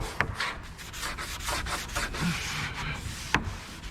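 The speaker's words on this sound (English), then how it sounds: "we'll give it a good scrubbing" A hand scrubs the interior of a 2017 Chevy Corvette Grand Sport, making quiet, uneven rubbing strokes. There are occasional sharper taps and no talking.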